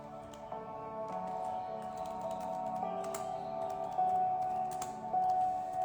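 Keyboard typing in an indoor room, a steady run of light, fairly close key clicks with no talking.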